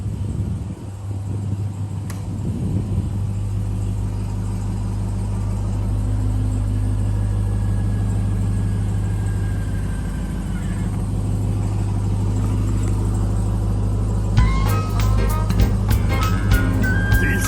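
A lifted Ram 1500 TRX pickup idles steadily, its engine a constant low rumble that holds close and loud throughout, with sharper clicks and rattles near the end.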